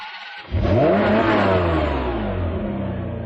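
A 1995 Ferrari F512M Testarossa engine fires up and revs hard, a deep roaring growl that holds loud and steady before easing slightly, with no voices.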